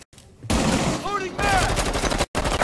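Gunfire in Rainbow Six Siege, a 2020 Terrorist Hunt match: loud, dense bursts of shots that start abruptly after a short quiet, with a brief dropout near the end, mixed with game sounds.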